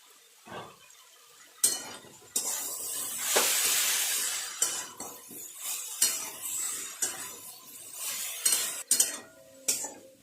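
Vegetables stirred with ginger and green chili paste in a pan for a vegetarian navratan korma: repeated scraping strokes of a spoon against the metal pan over a soft sizzle, close up and with no talking.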